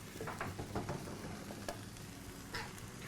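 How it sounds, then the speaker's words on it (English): A vegan cottage pie filling of stock-based sauce simmers and sizzles in a pan, close and continuous, with soft scraping stirs breaking through the bubbling and no voices. "we're trying to cook and evaporate the stock so the flavours start to kind of really marry together"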